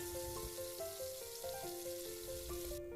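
Shrimp frying lightly in a pan for a cauliflower prawn curry, a steady soft sizzle and crackle running throughout, with faint tonal music sitting above it and no talking.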